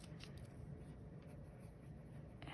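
Close, continuous scratching of a medium-nib Kakuno fountain pen writing ink swatch names on paper, a steady soft scraping.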